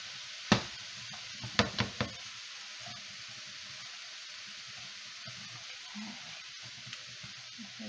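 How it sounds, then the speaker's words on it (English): Greens frying with sausage and garlic in a hot pan give off a steady, soft sizzle, with a few sharp knocks and clatters of a utensil early on and quiet stirring noises after that. "we're just going to saute this for about 2 or 3 minutes until it gets wilted"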